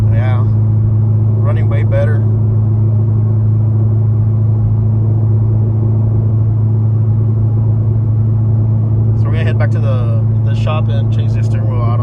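A Chevrolet Corvette C6 Z06 with a power upgrade idles steadily, a loud, deep, even rumble held close throughout, while people talk briefly over it near the start and again toward the end.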